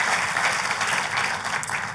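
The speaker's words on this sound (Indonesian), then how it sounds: "Ayo buat Tuhan kita kasih tepuk tangan yang paling meriah." A congregation applauds during a church service, a dense, moderately loud wash of clapping that swells and eases slightly over two seconds, with a steady hum underneath.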